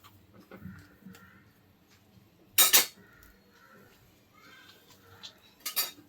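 A spoon clinks twice against a steel vessel while one spoonful of sugar goes into shavige payasam, two short bright metallic strikes a few seconds apart over faint kitchen background.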